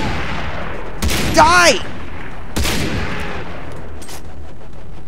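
Gunfire rings out in the shooter Far Cry 3, with a couple of sharp blasts standing out over a steady ambient rumble and someone speaking and shouting over the shots.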